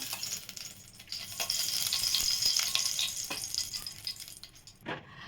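Two spoons of oil heating and sizzling in a preheated pan, a steady soft hiss with a few faint clinks, quiet and close, no talk.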